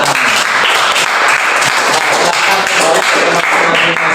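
A classroom of students applauding together during a lesson, loud and sustained clapping from many pairs of hands that continues without a break for several seconds, with no talking over it.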